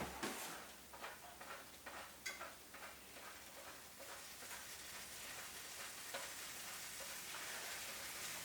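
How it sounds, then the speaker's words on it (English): Cheese grated by hand onto wet pancake batter frying in a pan, a steady broadband sizzle with repeated soft scraping rasps and light ticks over it, close and moderately quiet, with no talking. "So you just put the cheese, grate it straight onto the wet batter at the top."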